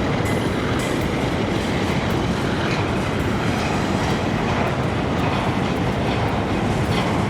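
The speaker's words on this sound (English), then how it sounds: "We could see our CSX Herzog train go off into the distance" A CSX Herzog train rumbles steadily past at close range, a dense continuous roar of wheels and rail cars with faint clickety-clack throughout and no voices.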